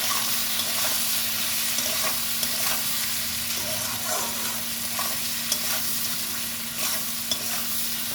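Ivy gourd (kundru) frying with red chilli powder, sugar and spices in a pan, a steady close sizzle with scraping stirs throughout, no voices.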